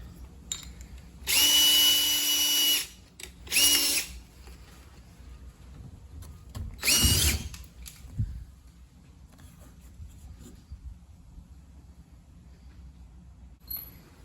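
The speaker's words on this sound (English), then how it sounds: "So now I'm gonna make it a bigger drill bit. Just this hole." A power drill whirs through plastic in several short bursts, the first longest, then quieter handling clicks and faint room noise follow.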